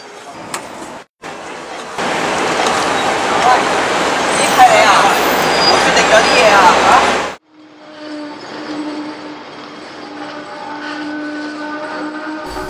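A Hong Kong tram rolls along the tracks with a loud broad rumble for several seconds, then fades to a quieter steady interior hum with tonal whine, and voices talk in the background.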